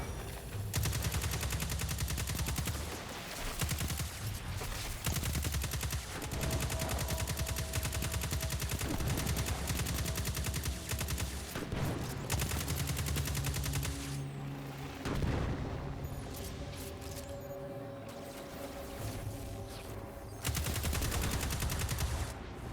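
Dense, loud gunfire from the video game Destiny 2 pours out in long automatic bursts and rapid shots, with booming impacts and a brief lull near the middle before the firing resumes, no talk over it.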